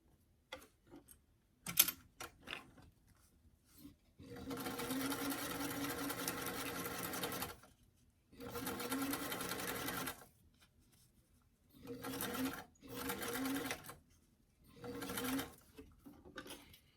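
Close sewing machine stitching a formal doll dress, running in several sustained bursts of a few seconds each, separated by short pauses and faint clicks.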